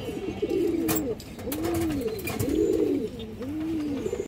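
Domestic pigeons of several fancy breeds in a market pen coo repeatedly in deep, rolling phrases, four clear swelling coos in steady rhythm, close and fairly loud against a busy background.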